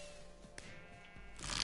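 Sheep bleats from a Minecraft game, a short soft bleat near the middle over low background noise, with a louder burst of noise at the end.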